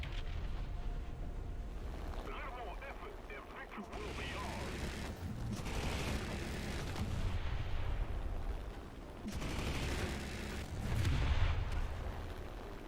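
Tank cannon fire in the combat video game War Thunder, with repeated heavy booms and mechanical rumble running through the clip alongside a constant dense layer of battle noise.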